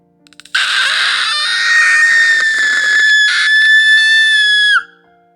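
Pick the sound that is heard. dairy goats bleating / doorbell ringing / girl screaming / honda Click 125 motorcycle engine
girl screaming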